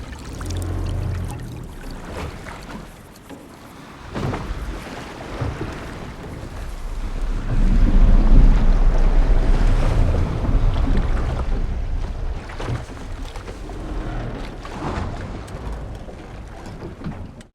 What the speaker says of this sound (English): various slapping water on the outside of the boat and sloshing on the inside of the boat